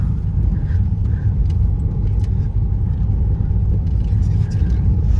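A car rolls over a rough, bumpy road at a Kerala beach, giving a steady loud low rumble with rattling and jostling throughout, no talk over it.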